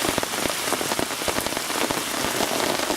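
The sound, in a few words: heavy rain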